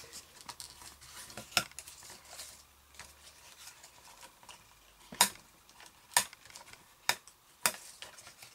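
Paper card being creased into valley and mountain folds, sharp crisp snaps and crinkles recurring irregularly, close and fairly faint against a quiet room.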